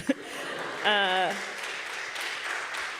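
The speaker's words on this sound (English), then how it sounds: "you can clap for that" An audience claps steadily at a moderate distance while someone briefly vocalizes over it, a short voiced sound cutting in before fading back to applause.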